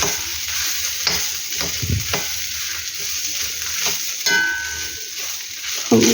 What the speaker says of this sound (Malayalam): പീനട്ടും കൂടി ഇതിലേക്കിട്ട് ഇളക്കി കൊടുക്കുക